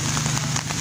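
Heavy rain driven by strong wind during flooding, a loud, dense, continuous roar with no breaks and no voices.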